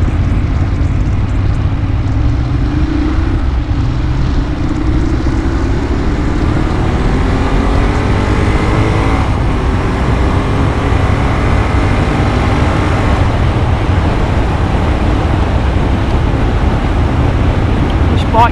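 Motorcycle engine of about 100 horsepower pulling hard while riding in urban mode, a steady loud roar blended with heavy wind rush throughout, rising slightly in pitch as it accelerates.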